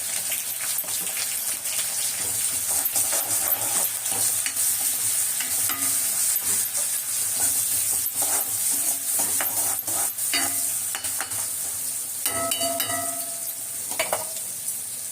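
Ground masala paste and chopped country onions sizzle steadily in hot oil, with constant frying crackle and repeated stirring scrapes throughout, close and fairly loud with no talk.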